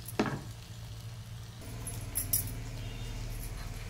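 Two eggs frying in oil with onions in a pan: a soft steady sizzle with a sharp tap or clink near the start and a few light scrapes later, fairly quiet and close.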